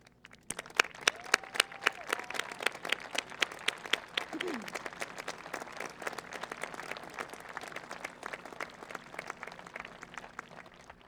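A graduation audience applauds the standing parents and grandparents of the seniors, a steady roomful of many hands clapping on and on, fairly distant and even in level, with sharper single claps standing out near the start.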